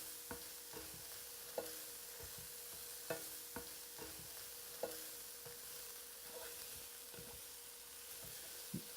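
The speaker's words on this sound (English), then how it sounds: "We just want to stir them around until they start to give off a little bit of liquid" Onions and celery sweat in a pot with pork under a quiet steady sizzle while a spoon stirs them, giving sharp scraping knocks roughly every second; faint and close, no voices.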